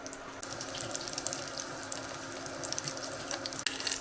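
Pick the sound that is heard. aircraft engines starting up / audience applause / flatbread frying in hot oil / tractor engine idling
flatbread frying in hot oil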